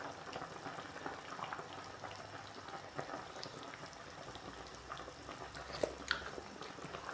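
Chicken soup with Chinese cabbage and chili simmering in a pot, a steady soft bubbling with scattered small pops and drips, fairly quiet and close, with no talk over it.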